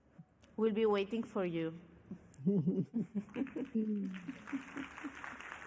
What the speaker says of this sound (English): I suppose you can hear the applause.